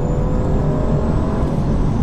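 2015 Mercedes-Benz C-Class accelerating at full throttle heard from inside the cabin, a dense low engine and road rumble that stays smooth and muted, continuous and unchanging for the whole short stretch.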